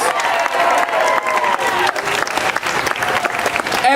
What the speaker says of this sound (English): A round of applause for good journalists